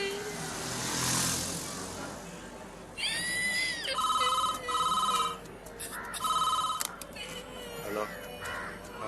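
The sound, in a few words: telephone ringing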